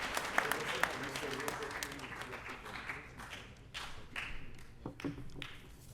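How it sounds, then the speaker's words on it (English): Audience applause at an athletic awards ceremony, steady clapping from a seated crowd that thins slightly midway and carries on with scattered louder claps, moderately distant. "let's give him a round of applause."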